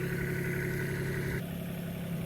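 Tractor engine running steadily during a winching job, a continuous low mechanical drone that holds level throughout with no voices.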